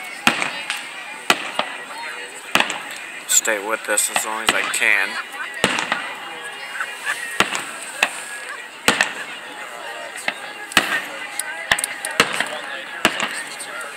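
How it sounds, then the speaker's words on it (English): Fireworks over South Haven, Michigan go off in a rapid series of sharp cracks and booms at irregular intervals, with crackling bursts between them and a person talking over the display. "I just love fireworks."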